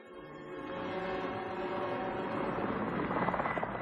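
A helicopter flies over the Chernobyl area, its steady rotor drone and engine whine building in the first second and then holding loud and continuous, with faint blade pulsing growing toward the end.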